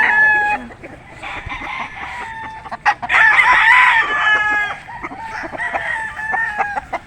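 A Gilmore and Perry hatch gamefowl rooster crows loudly and close, giving several drawn-out calls mixed with clucking and other fowl sounds in the background.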